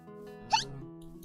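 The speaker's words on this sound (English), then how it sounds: "Hiccup." A single hiccup from a woman streaming as a VTuber, one short sharp squeak-like burst near the middle, fairly loud and close, over faint background hum with no talk.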